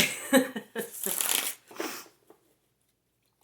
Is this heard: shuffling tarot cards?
yes